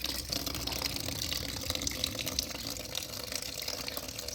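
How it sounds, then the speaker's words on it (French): Water draining out of a newly filled tiny house plumbing system with an instant water heater, a steady close gushing rush that runs continuously without pause. "Donc là je peux vidanger l'installation."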